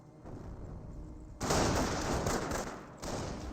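Mortar fire in Company of Heroes, loud booming blasts that jump in abruptly, one after another, amid rumbling battlefield noise.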